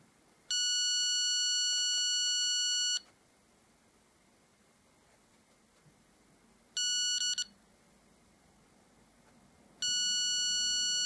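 An electronic wall detector scans a wall for hidden objects and gives out high steady beeps: one long tone of about two and a half seconds, a short beep, then another long tone starting, with quiet gaps between.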